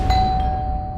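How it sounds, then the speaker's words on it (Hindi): A single doorbell chime rings indoors in a home, a clear ding that rings out and fades over about a second. "ये कौन घंटी बजा रहा है?"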